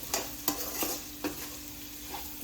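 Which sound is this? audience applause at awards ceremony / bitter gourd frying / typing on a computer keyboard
bitter gourd frying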